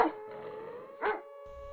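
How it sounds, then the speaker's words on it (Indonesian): Dog barking and howling sound effect, a short bark burst followed by a sustained tonal howl, a second louder bark in the middle, then the howl fading out, fairly faint overall. "aku mendengar suara gonggongan serta lolongan anjing dari arah belakangku"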